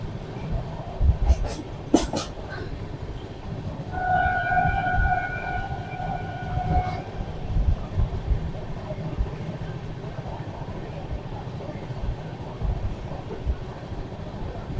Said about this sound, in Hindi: अब हमारी दुरंतो एक्सप्रेस ग्वालियर को जंक्शन को स्किप